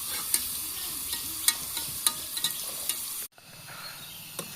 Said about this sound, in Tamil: நம்மளோட வெங்காயம் நல்லா பொன்னிறமாக வதங்கிருக்கு.